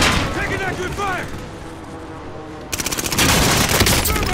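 Gunfire in a Call of Duty: Modern Warfare match, with talk and noise first, then a quieter stretch and a burst of rapid automatic shots that build into loud sustained fire at the end.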